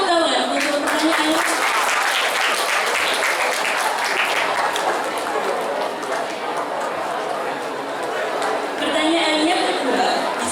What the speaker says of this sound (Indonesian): Beri tepuk tangan untuk pertanyaan